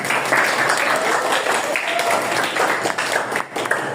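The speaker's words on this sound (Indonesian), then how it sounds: "Tepuk tangan dong Presiden." Applause in a vocational school class, steady and moderately loud for the full few seconds with a brief dip near the end.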